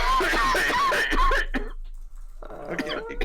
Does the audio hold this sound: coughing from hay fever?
yes